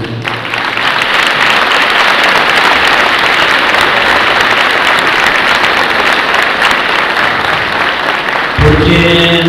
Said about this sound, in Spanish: quiero pedir un fuerte aplauso para ellos